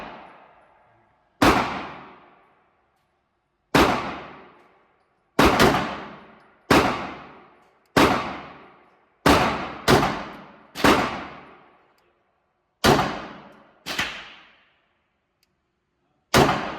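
Crosman CR920xp air rifle fired slowly at a target, about eleven sharp cracks each with a short ringing decay, spaced unevenly a second or two apart, loud and close with no talking.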